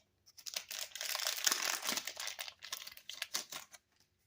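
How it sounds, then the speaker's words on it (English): Packs of Metal Cardbot trading cards being torn open, close crinkling and ripping of wrapper material in a few bursts, fairly quiet and without talk. "now I'm going to just go ahead and open these cards"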